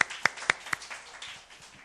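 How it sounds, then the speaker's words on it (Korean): A church congregation gives a short burst of applause, a few sharp claps at first and then softer scattered clapping that fades within two seconds. "다시 한번 박수로서 감사 표할까요?"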